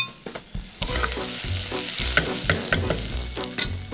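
Garlic sizzles in a pan with vegetables for a lentil soup while a utensil scrapes and stirs in uneven strokes, the frying crackle constant and close with no talk.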